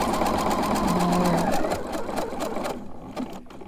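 A sewing machine stitches through a coiled rope trivet wrapped in scrap fabric, a steady close mechanical whir for about two and a half seconds that then slows and fades to near quiet.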